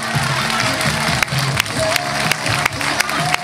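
An audience at an evening hypnosis show applauds and cheers, a steady loud wash of clapping with shouts and crowd voices throughout.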